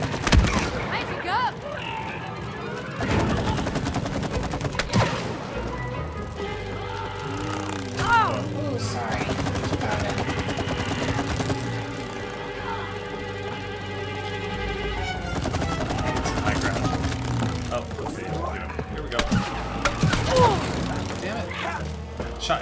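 Gunfire in the It Takes Two video game crackles in rapid mechanical bursts against swelling music and effects, with a voice talking over parts of it.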